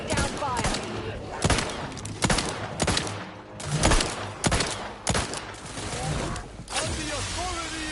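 Rapid bursts of gunfire from The Outer Worlds 2 video game, sharp repeated volleys crackling through the full eight seconds, loud and close, with a voice speaking intermittently between the shots.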